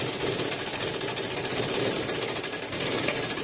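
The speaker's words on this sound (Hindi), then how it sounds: "अब यहाँ से थोड़ा आगे मैं सिलाई कर दूंगी" Sewing machine stitching a strip of fabric for decorative latkans, a steady rapid mechanical chatter running loud and close throughout, with no voice over it.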